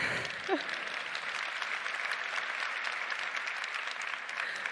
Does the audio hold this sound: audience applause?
yes